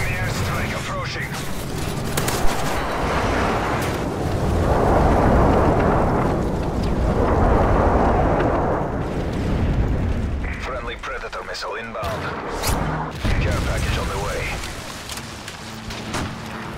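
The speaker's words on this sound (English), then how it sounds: "Enemy airstrike approaching." An enemy airstrike in Call of Duty Modern Warfare 3 drop zone gameplay, heard as a continuous rumbling roar of heavy explosions swelling and fading in waves, with scattered gunfire and a voice announcing over it.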